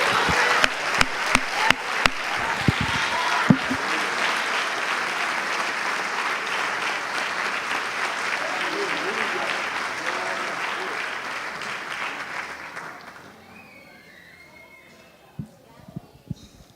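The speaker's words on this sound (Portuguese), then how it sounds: "Aplauda mais forte, é para Ele." A church congregation applauding, with dense sustained clapping and a few sharp louder claps near the start, fading out after about twelve seconds into near silence with scattered faint sounds.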